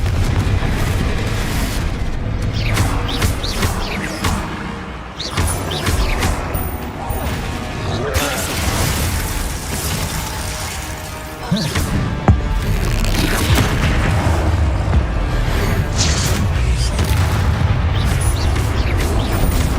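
Confringo blasting spell explosions during combat in the game Hogwarts Legacy, repeated heavy booms and crashes in dense succession mixed with other spell impacts, loud throughout, with occasional speech.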